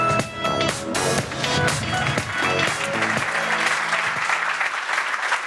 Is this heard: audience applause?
yes